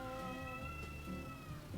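A pet cat being looked after at home lets out one long, drawn-out meow with a rising then falling tone, fairly faint over a low background hum.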